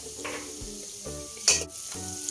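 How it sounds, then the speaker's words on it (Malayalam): Turmeric powder fries in a pan for chana masala, giving a close, steady sizzle with a few stirring scrapes and one sharper clink of utensil on pan, without any speech. "ഈ മഞ്ഞൾപ്പൊടി ഒന്ന് നന്നായിട്ട് മൂപ്പിച്ചെടുക്കുക."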